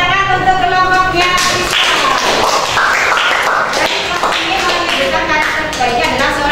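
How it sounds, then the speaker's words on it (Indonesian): A class of students claps loudly for a group of classmates, a dense, sustained patter of hands with children's voices chattering and calling through it. "Oke, tepuk tangan untuk kelompoknya."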